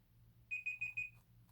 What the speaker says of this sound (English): And there's my timer going.